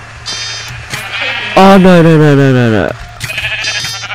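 A sheep in Minecraft, on the Mineplex server, lets out one loud, drawn-out bleat lasting over a second, close and clear, with someone talking briefly before and after it.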